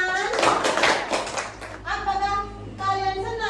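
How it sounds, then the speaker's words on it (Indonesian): Schoolchildren clapping in a classroom, a loud burst of mixed claps at first that fades as children's voices and a teacher's speech take over. "Iya, betul sekali. Beri tepuk tangan."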